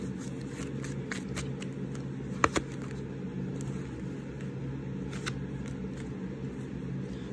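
Tarot cards shuffled and drawn by hand, a soft continuous papery riffle over a steady low hum, with a couple of brief sharp snaps as cards are flicked down.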